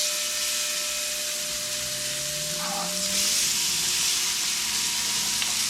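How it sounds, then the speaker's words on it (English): Steaks frying in bacon grease on a Vever flat top griddle, a steady broadband sizzle that holds loud and close from start to finish, with a brief rising hiss partway through as the meat goes down. "I'm going to add a little bacon grease down as well to cook these steaks."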